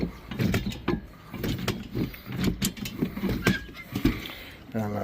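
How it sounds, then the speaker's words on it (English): A nut being tightened on a Gorilla Cart wagon with no-puncture tires: quick ratcheting clicks and metallic ticks in uneven bursts, close by, with a person talking over them. "I just gotta tighten this nut down here"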